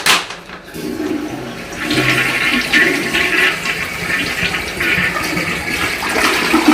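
A toilet flushes with a loud, steady rush of water that swirls and gurgles for several seconds, close by with no voices.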